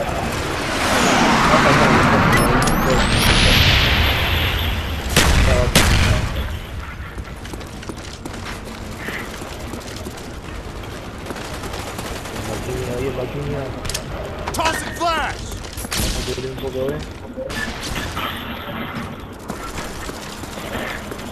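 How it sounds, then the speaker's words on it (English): Explosions from a napalm strike and gunfire in Call of Duty: Black Ops Demolition mode: heavy booming bursts, then crackling shots and mechanical clatter, loud and close, with voices talking over the game sound. "Friendly napalm strike on the way."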